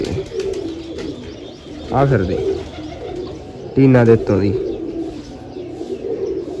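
Two pigeons, one pink and both of the Bagla type, coo in low rolling phrases close by, while someone talks steadily over them in an outdoor village setting.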